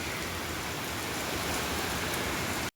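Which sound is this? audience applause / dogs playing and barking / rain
rain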